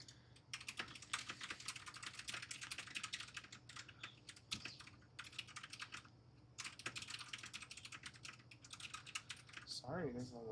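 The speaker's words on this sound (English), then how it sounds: "there's a lot of typing going on in this window you guys can't see" Rapid computer keyboard typing in bursts of clicks with short pauses, fairly close and steady, during a live coding session; a brief voice starts at the very end.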